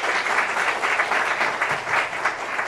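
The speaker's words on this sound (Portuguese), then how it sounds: "Eu peço uma salva de palmas" Audience applause at a negotiation lecture, a dense, steady wash of many hands clapping together, close and loud throughout with no talk over it.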